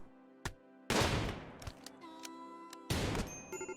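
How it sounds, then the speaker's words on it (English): Gunfire from a colonist in RimWorld: a few sharp shots, then two heavy bursts of firing with ringing decay, interspersed with isolated cracks. "Oh, he actually is shooting."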